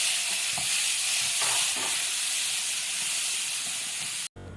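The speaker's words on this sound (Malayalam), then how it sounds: "1 ടീസ്പൂൺ ഗരം മസാലയും ചേർത്ത് മിക്സ് ചെയ്തതിന് ശേഷം 3 തക്കാളി ചെറുതായി അരിഞ്ഞതും ചേർത്ത് വഴറ്റിയെടുക്കാം." Chopped tomatoes and garam masala sautéed in a pan for Kerala-style beef curry, giving a continuous hissing sizzle with a few soft stirring scrapes, ending in a brief cut.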